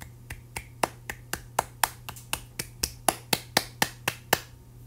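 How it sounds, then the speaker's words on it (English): Sharp hand claps, about sixteen of them in a steady, fairly quick rhythm, sound close and crisp over a faint low hum, with no talking. "I guess I'll just clap anyway."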